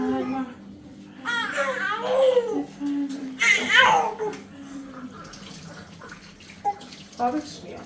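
Tap water runs steadily in a home, a soft continuous wash beneath voices speaking and a child's cries.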